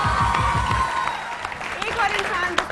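Studio audience on a Pakistani morning television show clapping, with a host's voice talking over much of the applause, which comes in somewhat uneven bursts.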